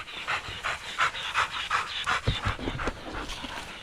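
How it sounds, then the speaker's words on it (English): Hunting dogs panting hard after a pig hunt in the Northern Territory, a steady rapid run of close, breathy huffs with no talk over them. "Good dogs."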